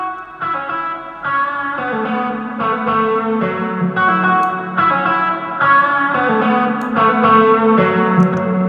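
An electric guitar track soloed in Logic Pro X with automation plays a run of picked and strummed notes, thick with distortion, chorus and echoing reverb, each chord ringing into the next in a steady rhythm, with no talk.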